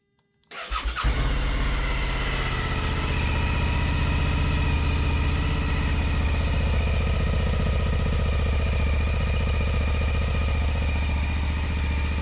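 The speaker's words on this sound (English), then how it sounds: "what sort of volumes we get from the original exhaust." A Suzuki V-Strom 1050DE with its original exhaust starts up indoors in a garage and settles into a loud, steady, close-up idle with an even low rumble throughout.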